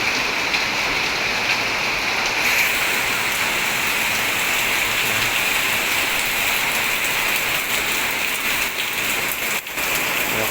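Heavy rain pours steadily on a house roof, a dense, unbroken hiss of drops hitting surfaces close by for the whole stretch.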